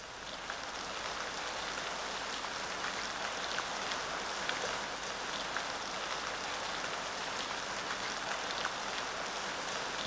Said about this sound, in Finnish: nyt minä tunnen sateen tuoksun. Kohta sataa vettä.